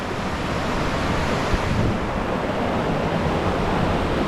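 Heavy river water rushes over boulders and through pools at a rugged forested riverside in a North Carolina national forest, producing a loud, steady roar up close with no voices.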